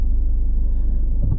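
A car drives through Darmstadt, Germany, from Kranichstein toward the city, giving a loud, steady low rumble of engine and road noise heard close from inside, with no talking.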